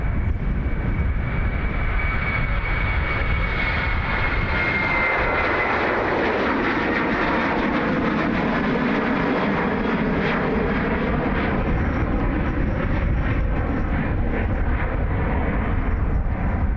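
A jet airliner's engines roar at Dublin Airport in a loud, sustained rush that swells and shifts in pitch as the aircraft passes close by, with no talk over it.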